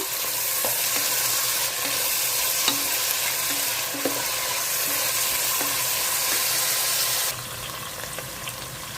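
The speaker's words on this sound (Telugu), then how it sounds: "పుదీనా కొత్తిమీర అన్నీ వేసేసుకుందాము వేగిపోవాలి బాగాను" Onions with green chillies, mint and coriander fry in a pot for pulao, a loud continuous sizzle with regular light taps and scrapes of a stirring spoon, close up and without speech.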